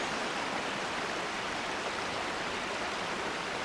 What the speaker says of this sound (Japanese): 小川のせせらぎ、